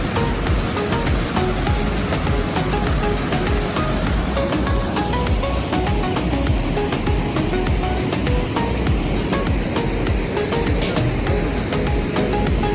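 Rushing river swollen with snow melt, a steady broadband roar of fast water that stays loud and unbroken throughout, close by with no talking.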